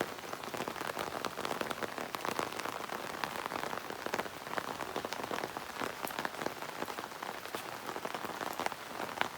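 Steady rain falls on a village yard, an even, dense hiss of drops striking surfaces all around, continuous and fairly soft with no voices.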